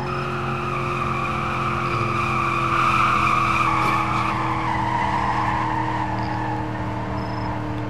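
Hard braking in a Roblox Greenville car with auto emergency brake, a sustained tire skid and squeal over steady engine drone lasting about eight seconds, loud and close with no talking.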